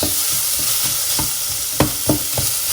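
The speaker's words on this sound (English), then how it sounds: "Give that all a stir. Get that nicely sealed in with the oil. Nicely browned." Mushrooms and carrot frying in oil for a homemade ragu are stirred in a pan, with a steady loud sizzle and several sharp spoon scrapes near the end.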